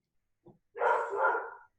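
A dog gives a short soft yip followed by one full, loud bark up close, with silence around it.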